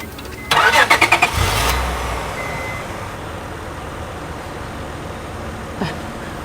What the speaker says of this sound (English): Please, can you help me start this car?